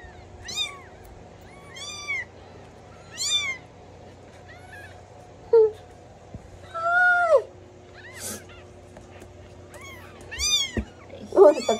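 Hungry kittens meow repeatedly while being fed, a series of short, high, close cries scattered over a quiet background, with several overlapping calls near the end.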